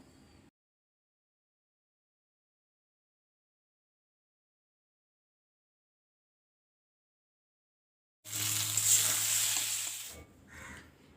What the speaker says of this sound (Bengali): এটা এই তেলের মধ্যে দিয়ে মশলাটা একটু 5 মিনিট ধরে আমি কষিয়ে নেব